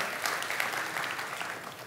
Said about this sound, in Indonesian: Berikan tepuk tangan sekali lagi buat Tuhan.